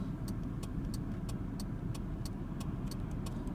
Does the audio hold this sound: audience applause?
no